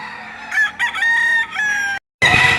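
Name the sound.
stag rooster crowing at a market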